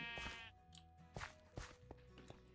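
A sheep in Minecraft's Sky Factory 3 modpack bleats three or four times in short wavering cries, with soft game footsteps and clicks between them.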